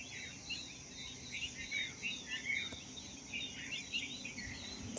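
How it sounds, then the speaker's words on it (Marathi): Small birds chirp and twitter in the misty early morning outdoors, a busy, faint chorus of quick high calls over soft insect buzz and quiet ambient noise. "आणि पक्ष्यांचा आवाज पण किती येतोय."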